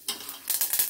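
Mustard seeds and urad dal sizzle and crackle in hot oil in a kadai, a short close burst of bright frying hiss with scattered pops and no talk.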